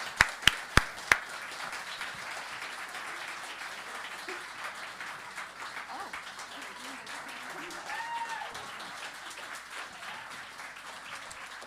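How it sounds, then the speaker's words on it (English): An audience applauds steadily for several seconds after a few sharp, separate claps at the start, the clapping continuing evenly throughout. "Another round of applause for Connie Roberts."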